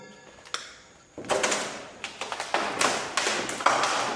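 Irregular thuds and taps from a loose door banging inside an abandoned school, a sharp knock followed by a series of uneven bangs and rattles at close range with no talk over them.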